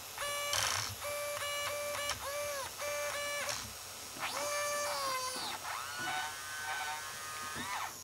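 A DMOND DBS5084V 50kg RC servo with stripped gears whirs and grinds in short bursts with rising and falling pitch, buzzing against faint background noise and gritty mechanical chatter.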